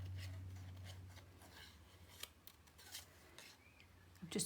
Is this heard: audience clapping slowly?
no